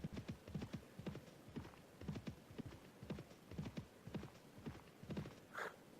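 Horse hooves clip-clopping at a steady, rhythmic gait while riding in the Mount & Blade video game, fairly quiet and close, with a brief whinny near the end.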